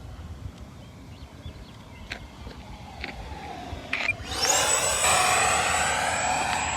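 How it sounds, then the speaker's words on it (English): An FMS 80mm Rafale RC ducted-fan jet makes an idle fly-by. Quiet outdoor ambience with faint ticks gives way to a sudden, loud broadband rush with a steady high whine that stays close until the end. "We'll do an idle pass so you can hear the airframe go by."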